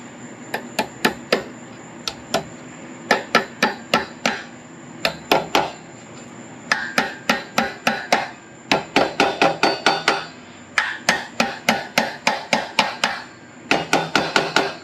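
A key being hammered into a keyway on a Sears Roper mini bike, heard as loud, sharp metallic taps in quick bursts of three to six strikes, each burst separated by short pauses.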